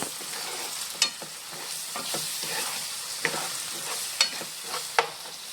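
Tomato and onion frying in a pan for pav bhaji, a continuous close sizzle with soft stirring scrapes and a few sharp taps of a spatula against the pan.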